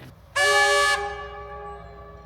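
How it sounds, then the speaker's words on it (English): Walhalla Goldfields Railway train horn blasts once loud and steady for about half a second as the train leaves the station, then trails off into a lingering echo over quiet outdoor ambience. "Oh, the train's just leaving."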